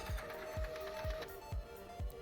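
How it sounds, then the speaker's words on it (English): A printer runs with a steady mechanical hum and a low thump repeating about every half second, moderately loud and alone. "Printer noise intensifies."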